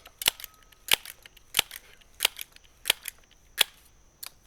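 A Crosman Backpacker pump air rifle fires at six pumps, seven sharp, close cracks spaced at a steady rhythm with quiet gaps between them.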